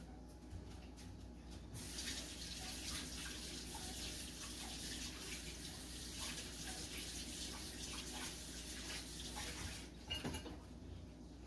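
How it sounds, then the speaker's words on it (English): Tap water runs into a mixing bowl as sourdough starter is rinsed out, a faint continuous splashing hiss that starts after a short pause, carries on for about eight seconds, then stops, with light clinks against the bowl. "wash immediately, or at least rinse it off, because sourdough starter dries like concrete"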